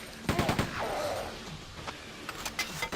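Gunner enemies firing in Quake II, heard as a close burst of rapid shots early on, then scattered sharper bangs and clatter, with game noise filling the background.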